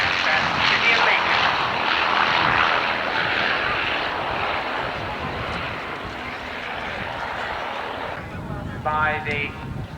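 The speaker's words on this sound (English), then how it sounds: "creeping in quietly from our right, the Avro Lancaster" An Avro Lancaster bomber approaches at an airshow, its broad propeller-engine drone loud and steady throughout, fading slightly before a voice speaks over it near the end.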